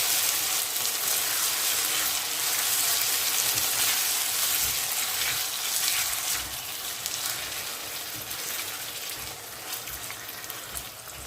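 Pork stew with chopped tomatoes is stirred in a pan, a steady broadband sizzle and wet bubbling running loud and close throughout with no voices.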